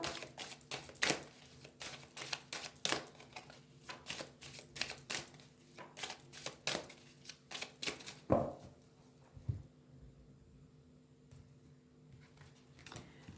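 A deck of cards cut and shuffled for a reading, heard as quick close riffling flutters and snaps in bursts, then a quieter pause with a few soft taps near the end.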